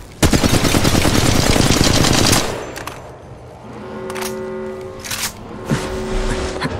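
Loud rapid automatic gunfire in Apex Legends plays as a dense continuous burst for about two seconds, then scattered single shots and clicks follow over quieter game ambience.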